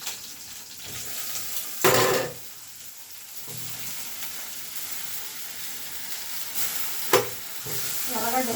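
Onions frying and being stirred in a pan while a moong dal masala curry is cooked, a steady sizzle with a few louder scraping bursts, no talk.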